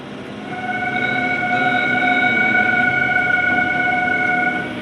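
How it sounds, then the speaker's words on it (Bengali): A local train pulls in on the adjacent track at a Kolkata suburban station, heading toward Sealdah: a steady rumble with a sustained high whine that swells, holds, then drops off at the end, with no voices. "পাশে আরেকটা ট্রেন আসছে"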